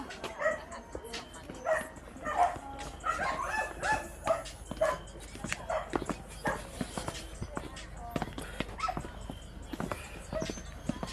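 A dog in Atok, Benguet barks again and again in short, sharp, fairly close yaps at an uneven rhythm while people talk nearby.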